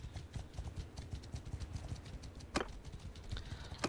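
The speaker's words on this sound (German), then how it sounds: "Wir reiten zur Festung Mekalovea." Horse hooves clop in a quick, steady rhythm during a ride to a fortress in Mount and Blade II: Bannerlord, soft and close, with one sharp knock partway through.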